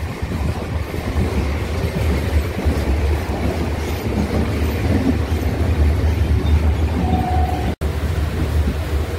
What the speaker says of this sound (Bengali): শ্যামনগর থেকে ট্রেন ছাড়লো, চললাম মাসদিয়ার উদ্দেশ্যে।